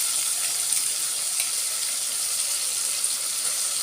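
Ginger garlic paste cooking in a hot pan for aloo pulao, giving a steady, close, continuous sizzle with a bright hiss and faint crackles throughout, no voices.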